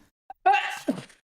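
A single loud sneeze bursts out after a short intake of breath, close and sharp, ending in a brief nasal tail.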